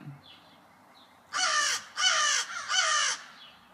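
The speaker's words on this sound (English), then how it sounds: "there's always birds flying around, so, and crows cawing" Crows caw outdoors, three loud harsh calls in quick succession after a couple of faint distant caws, with quiet background between.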